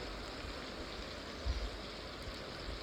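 Chopped medium-sized onions frying in a pan give a soft, steady sizzling hiss that stays even throughout, with one faint low bump midway and no voices, quiet and close.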